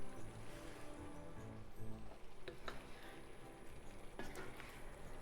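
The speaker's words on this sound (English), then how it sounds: "keep cooking for another 5 minutes or so until the broth is cooked down to half" Chicken and sweet potato braise uncovered in miso broth as it reduces by half, a soft steady bubbling and sizzle with a couple of light clinks, quiet and close, with no talking.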